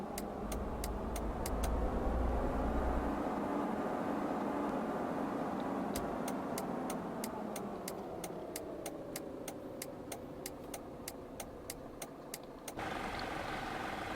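A Renault Master van drives in Euro Truck Simulator 2. Its engine hums steadily and shifts pitch as it speeds up and slows, while sharp, evenly spaced ticking clicks come in two separate runs.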